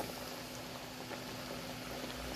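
Dough for makrout fries in oil in a pan, giving a steady fine bubbling sizzle, close and even throughout, with no voices.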